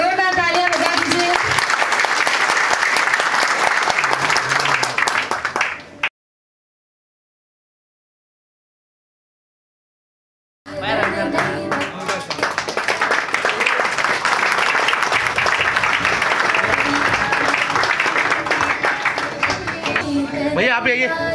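Loud, dense audience applause with cheering at a Union Bank of India and Fino Bank event recognising banking correspondents, broken by a silent gap of several seconds before resuming just as strongly; voices are mixed in.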